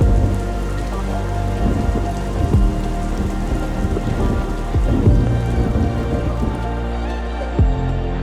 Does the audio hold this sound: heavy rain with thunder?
yes